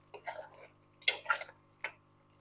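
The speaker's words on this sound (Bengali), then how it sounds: "গ্রেভির সাথে ঢ্যাঁড়সটাও ভালো করে মিশিয়ে দেব।" Fried okra is stirred into a gravy in a pan, giving a few soft, scattered scraping and clinking touches of a utensil against the pan, faint and close with gaps of quiet between.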